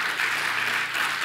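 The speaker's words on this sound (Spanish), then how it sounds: "Y si le vamos a aplaudirle al Señor" A church congregation applauds during a sermon, a steady dense wash of clapping that holds at even loudness throughout with no voices standing out.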